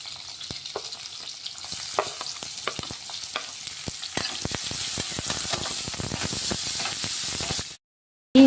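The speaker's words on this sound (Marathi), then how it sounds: "आता मिरच्या चांगल्या परतून घेऊ थोड्या" Green chillies and finely chopped onions sautéing in a pan, a steady crackling sizzle with scattered sharp pops and stirring scrapes, building slightly before cutting off abruptly near the end.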